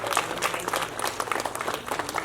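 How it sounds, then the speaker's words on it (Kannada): Applause from a crowd at the Kuppuru Jathre religious gathering, a dense continuous patter of many hands clapping at moderate distance, steady for the whole stretch with no talk over it. "ಸರಿ ಅಂತಂದ್ರೆ ಜೋರಾಗಿ ಚಪ್ಪಾಳೆ ನೋಡಿ."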